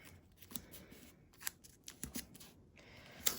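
Scissors snip away excess embroidery tape around a turntable zip bag in the hoop, a run of short crisp cuts and paper-like rustles, close and fairly quiet with no talking.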